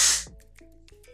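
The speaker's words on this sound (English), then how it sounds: "I'm just going to add some Kristin S Dry Finish Working Texture Spray just to add texture in my hair." Short, loud hiss of Kristin S Dry Finish Working Texture Spray aerosol misted onto hair, lasting a fraction of a second close up, then fading to faint handling noises.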